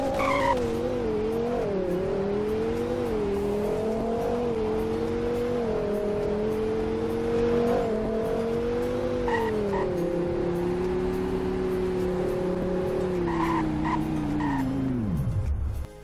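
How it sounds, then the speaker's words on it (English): A car in the Roblox game Greenville runs a 0 to 100 and braking test: a steady engine tone climbs and holds through gear changes, then drops sharply as the car brakes hard at the end, with no talking. "As always, here's a 0 to 100 in braking test."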